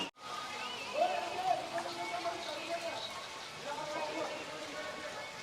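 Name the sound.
water stream falling continuously at the Gaumukh spring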